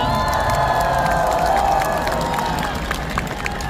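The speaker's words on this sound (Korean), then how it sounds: "다시 한번 큰 박수 부탁드리겠습니다" A large outdoor crowd at a final presidential election campaign rally in Seoul's City Hall Plaza cheers and applauds loudly and continuously, with shouts and voices rising through the dense roar.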